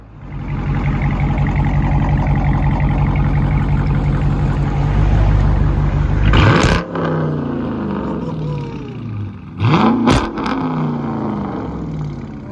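A 2019 Dodge Charger R/T with a 5.7L HEMI V8 and mid-muffler-delete dual exhaust idles with a loud, deep, lumpy burble, then revs sharply twice in quick bursts that drop back to idle.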